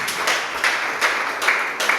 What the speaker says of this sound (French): Est-ce qu'on peut encore une fois, chères femmes, applaudir pour tous les exploits que ces femmes ont accomplis?